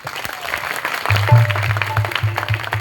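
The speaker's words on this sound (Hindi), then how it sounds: "एक बार जोरदार तालियां।" Clapping from a crowd at a Navratri gathering, fairly loud and busy, mixed with a low droning tone and some background sound underneath.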